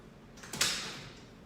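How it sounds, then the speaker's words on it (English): A studio front door is locked with a short mechanical clack and a brief sliding rattle, one close sound that fades quickly in a quiet room. "So I just locked the door so that no one will come in"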